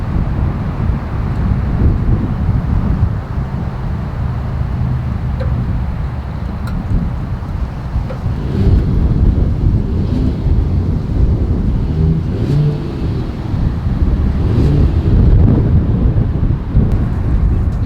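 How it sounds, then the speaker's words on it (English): A 2022 Mercedes-Benz GLS 450 SUV exhaust rumbles steadily in a deep, continuous low drone, swelling slightly toward the end, with some wind buffeting over the microphone outdoors. "As always, here is that exhaust clip."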